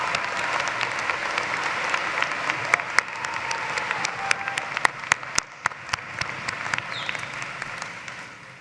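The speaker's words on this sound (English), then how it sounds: "Let's give a round of applause for our management graduates." Sustained applause from a large commencement crowd in Gentile Arena for management graduates, steady and dense throughout, with a few sharper individual claps standing out near the end.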